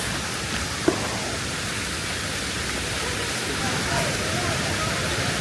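Tall waterfall at Lata Penyel, Pos Yum, rushing as a steady, dense broadband roar that fills the whole scene without pause, with a brief faint knock near the start.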